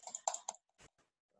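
Computer keyboard and mouse: a quick burst of three sharp key taps, then a couple of softer clicks, close and faint in an otherwise quiet room.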